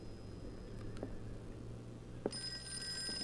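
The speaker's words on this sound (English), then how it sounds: "Yes, phone. Why are you ringing?" A telephone rings in the Call of Cthulhu video game, with a single brief ring tone standing out faintly over a steady low background hum.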